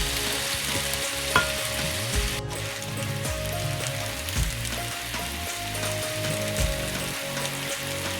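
Tomatoes cooking down in a pan for tomato dal, a loud steady bubbling sizzle with soft popping and occasional stirring scrapes, continuous and close throughout.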